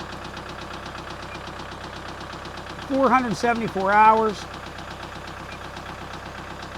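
A 2020 Kubota L47 tractor loader backhoe diesel engine idles with a steady, even knocking throb throughout, while someone speaks briefly over it partway through.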